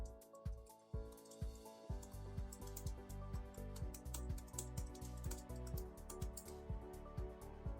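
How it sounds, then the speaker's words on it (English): Rapid, steady clicking of a computer keyboard being typed on close up, a continuous run of light keystrokes with a faint tonal hum underneath. "typing in a few notes about the meeting"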